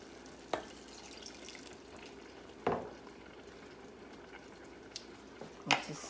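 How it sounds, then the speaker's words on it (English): Water poured into a pan of frying rice sets off a steady low sizzle, broken by a few sharp louder splashes and clinks of stirring, with no talking. "I'm going to add 1/2 cup of water."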